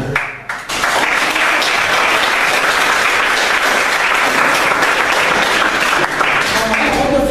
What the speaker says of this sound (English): Clap to you